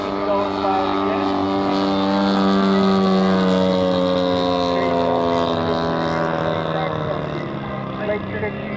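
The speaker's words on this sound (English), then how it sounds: "here comes some engine going by again." A radio-controlled model airplane engine drones steadily as it flies past at an outdoor garden airshow, swelling slightly in the middle and fading toward the end, with a faint voice underneath.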